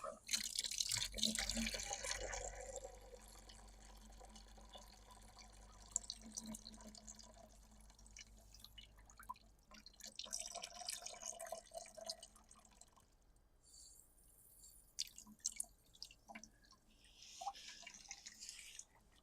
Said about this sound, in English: the trickiest part here is I want to let the water trickle,